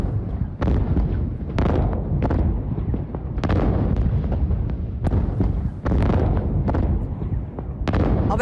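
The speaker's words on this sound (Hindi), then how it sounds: "एल्यूमिनियम मैग्नीशियम के अवैध प्लांट में धमाका" Explosions at an illegal aluminium-magnesium plant come as a string of heavy, loud booming blasts, each a sudden burst followed by sustained rumbling roar, repeating irregularly throughout.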